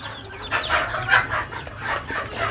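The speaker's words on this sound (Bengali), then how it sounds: "সহজে দেশি মুরগি পালন করা যায় যদি একটু চেষ্টা করেন" A rooftop flock of native desi chickens clucks continuously in rainy-season conditions, overlapping close calls with no voices.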